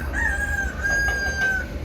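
A rooster crows once, loud and close, one long drawn-out call over a low rumbling background, with no voices.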